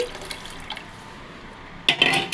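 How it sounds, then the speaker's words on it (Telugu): Tamarind water poured into a pan for a fish curry, a brief close splash and trickle near the end following a quiet stretch of faint kitchen background. "ముందుగా మనం తీసి పెట్టుకున్న నిమ్మకాయ సైజ్ అంతా చింతపండు పులుసుని వేసుకోండి"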